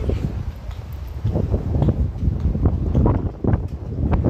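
Steady wind buffeting a microphone outdoors at a seaside park on the Doha Corniche, Qatar, a continuous low rumbling roar with gusty surges and no pauses.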